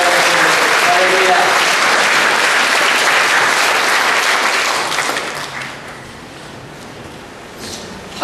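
A church congregation claps together during a Sunday service, a loud, dense round of applause that holds steady for about five seconds, then fades to a softer patter and scattered claps.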